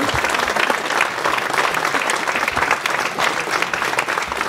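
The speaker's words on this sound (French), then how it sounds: "je vous demande d'applaudir le conseil municipal des jeunes nouvellement élus" An audience at a municipal New Year's ceremony in Nilvange applauds steadily, dense loud clapping from a large crowd filling the room without a break.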